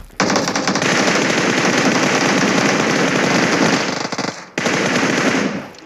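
Sustained automatic gunfire from a video game, near and loud, in long unbroken bursts that cut out briefly before resuming.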